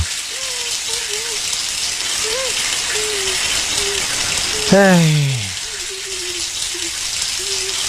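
A shower runs with a steady hiss of falling water, while a voice speaks and hums briefly over it and a short descending tone cuts in midway.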